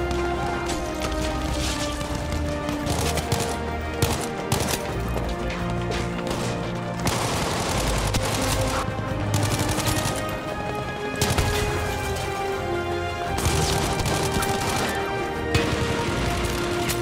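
Continuous gunfire in Battlefield V, dense and loud throughout with overlapping shots, impacts and battle noise and no clear pauses.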